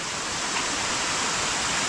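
Rushing stream water on a monsoon mountain trek via Ganesh Ghat to Bhimashankar, a steady loud broadband roar of fast-flowing water with no break, close by and without voices.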